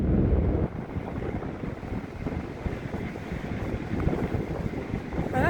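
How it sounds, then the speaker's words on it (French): Sea waves wash along the Brittany coast under strong, gusting wind that buffets the microphone in a constant, roaring rush, with no voices. "vous préférez entendre le bruit des vagues."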